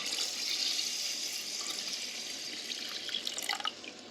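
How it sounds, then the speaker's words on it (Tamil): Water pours into a pot of rice and coconut milk for nasi lemak, a steady close splashing trickle that runs the whole time with no voices. "பால் ஊற்றின பிறகு தேவையான அளவுக்கு தண்ணி ஊற்றிக்கணும்."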